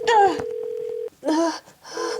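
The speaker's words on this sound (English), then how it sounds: "Okay, here. I'll dial." Telephone being dialed during a casual group game show, with a steady tone running under brief bursts of button beeps and a couple of voices talking over it.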